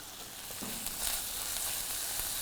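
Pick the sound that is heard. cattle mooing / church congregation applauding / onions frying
onions frying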